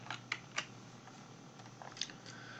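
A computer keyboard clicks with a few sparse, faint keystrokes as a drug name is typed in, against a low steady room hum.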